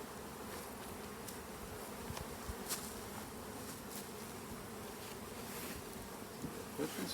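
Honey bees swarm around an open hive on a warm, sunny day, making a dense, steady buzz that fills the air with no pauses, close and continuous throughout.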